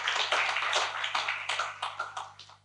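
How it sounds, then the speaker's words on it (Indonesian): Applause from a seminar audience welcoming two speakers at a public talk on wildlife trade and zoonosis: a steady patter of many hands clapping at moderate level, slowly thinning toward the end. "Jadi beri tepuk tangan untuk kedua narasumber kita."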